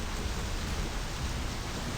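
Steady rain falls in the video game My Summer Car, a constant broadband hiss with a low rumbling undertone that holds at an even level for two seconds, with no voices.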